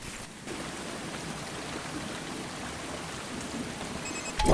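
Steady rain falling in the video game République, a moonlit, rain-soaked land, forms a continuous even hiss throughout with no voices, ending in a brief louder burst.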